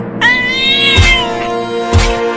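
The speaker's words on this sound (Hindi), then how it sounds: "वो बिल्ली दूध लेकर भाग रही है।" A cat meows loudly and close up in a drawn-out, wavering cry, with two short thumps partway through.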